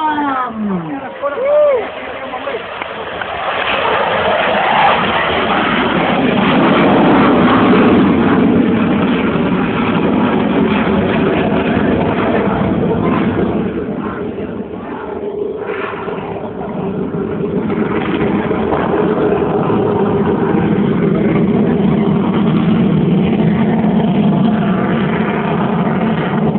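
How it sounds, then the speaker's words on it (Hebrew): An Israeli Air Force F-15 fighter jet takes off at an air show, a loud sustained roar of jet engine noise that swells and holds for most of the stretch, with crowd and announcer voices mixed underneath. "כשהוא ימריא לא אוכל לדבר, שימו על האוזניים, גבירותיי ורבותיי, מטוס ה-F-15 היה רם!"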